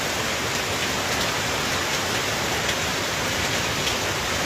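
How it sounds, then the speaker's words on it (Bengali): Heavy rain pours down steadily on a village, a dense, loud, unbroken hiss of drops striking surfaces. "আজকে যে বৃষ্টি হচ্ছে"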